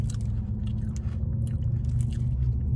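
Crunchy biting and chewing of a Kinder Bueno wafer bar with a milk chocolate filling, close and steady with sharp crisp cracks scattered over continuous mouth noise, no talking.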